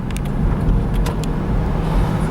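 A car rolls along a bumpy road, heard from inside the cabin: steady loud rumble of engine and tyres with a few sharp knocks and rattles as it hits bumps, no talking.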